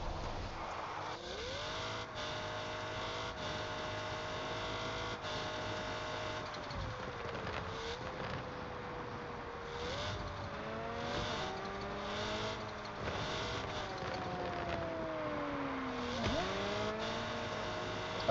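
A Pagani Zonda engine in the CPM 2 racing game revs hard on a Nürburgring lap, its pitch climbing and dropping through repeated gear changes in a steady, continuous drone.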